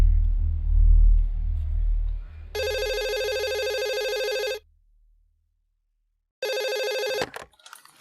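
A telephone rings in a home, two loud electronic ringing bursts separated by a pause, following low rumbling at the start.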